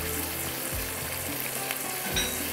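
Hand-minced keema sizzles and fries in masala on a flat tawa, a dense continuous crackle close by, with faint scrapes of stirring breaking through now and then; no voices.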